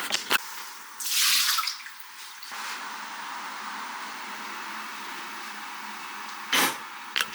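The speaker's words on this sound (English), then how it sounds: "And you rinse it through with water. Pour it out." Water runs and splashes over rice in a kitchen pot during rinsing, with a bright rushing burst, then a steady trickling pour as the water is tipped out, and a few short splashes near the end.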